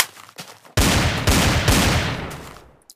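A Desert Eagle pistol fires medium bullets in a Minecraft SDK mod. Several loud, booming shots come a fraction of a second apart, each with a rough decaying tail, then the sound cuts to silence.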